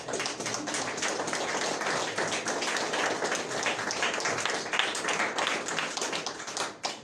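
Church congregation breaking into sustained applause during a Sunday service, dense continuous clapping filling the room at steady loudness before tapering off at the end.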